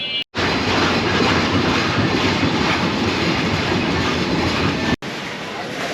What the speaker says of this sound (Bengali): বাংলাদেশ রেলওয়ের সুন্দরবন এক্সপ্রেস